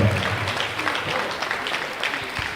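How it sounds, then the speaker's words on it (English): Audience applause, a sustained, fairly loud wash of many hands clapping at close range, with a brief voice near the start. "let's give a round of applause to NOAA for being here today"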